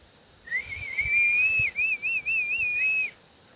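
A person on a mountain whistles a single sustained note that rises slightly, then warbles in quick wavering pulses before stopping, close and clear over faint background noise.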